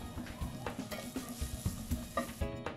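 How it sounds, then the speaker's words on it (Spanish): Onion sautéing in olive oil in a frying pan, a steady close sizzle broken by repeated scraping knocks of a utensil stirring through it, with no talk. "Sigo cocinando en la misma sartén, integro un poco más de aceite de oliva y sofrío la cebolla"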